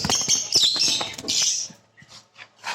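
Close, bright chirping of pet birds in quick overlapping bursts, then a few sparser, softer tweets trailing off.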